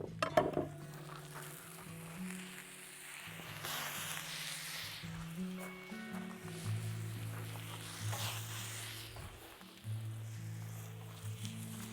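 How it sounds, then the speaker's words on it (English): Vegetables sizzle and crackle on a Vulcanus grill over strong heat outdoors, a steady close hiss with occasional stirring and scraping clinks throughout. "You can hear the sizzle"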